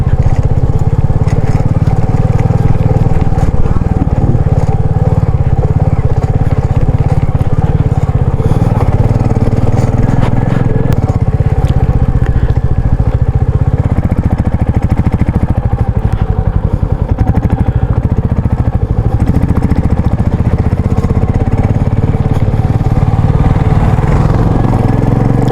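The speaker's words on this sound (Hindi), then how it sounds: "बाइक जा रही है फर्स्ट गियर पे," A motorbike climbs uphill in first gear on the mountain road from Kaza to Losar, its engine a loud, steady, close-up drone that holds constant throughout with no talking.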